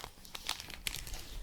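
A DNA test kit package crinkles and tears as it is opened, with soft, close, intermittent crackles and a few sharper rustles, quiet and without talk.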